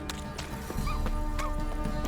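A horse in The Witcher 3 gives a short whinny while its hooves clop and shuffle nearby, set against a steady game ambience that swells after the first moment.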